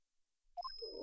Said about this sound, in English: It has a bell in its collar.